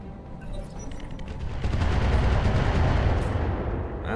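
Turrets in the video game BattleTech Roguetech fire rapid bursts of gunfire that build into a dense, booming barrage, loud and close, swelling through the second half with no voices.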